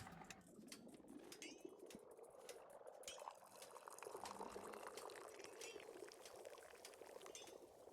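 Liquid pours in the Wanderstop tea shop game, a continuous trickling stream with faint glassy clinks and bubbling, low and close, without speech.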